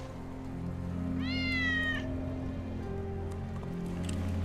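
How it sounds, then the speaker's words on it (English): A cat meows once, a clear rising-and-falling call in the middle, set against steady low rain-like ambience in Final Fantasy VII Remake; Wedge's cat is the caller. "That's Wedge's cat."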